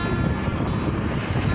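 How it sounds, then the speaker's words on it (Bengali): Strong wind buffets a microphone during a helmeted ride, a brief, loud, rumbling roar that stays continuous and close throughout. "হেলমেট খুলে গেছে, এত হাওয়া।"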